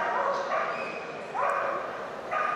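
Dogs of various breeds barking at an agility club demonstration during an international dog show in Belgrade: three sharp bark bursts about a second apart over a steady background wash.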